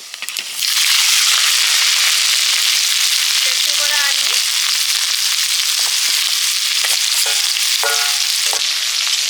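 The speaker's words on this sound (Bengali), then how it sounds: "আলু আর সজনে ফুলের ভাজাটা করব সর্ষের তেল দিলাম পাঁচফোড়ন শুকনো লঙ্কা এবারে দেব আলু" Potatoes sizzle loudly in hot mustard oil with panch phoron and dry chilli, a dense continuous close-up frying hiss with scattered pops and brief metallic scrapes of a spatula.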